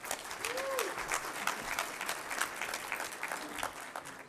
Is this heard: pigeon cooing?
no